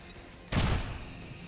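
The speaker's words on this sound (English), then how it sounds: "Another grenade will produce even more loss." A grenade explodes in the XCOM 2 video game with a sudden deep boom that rolls off into a rumbling tail over about a second.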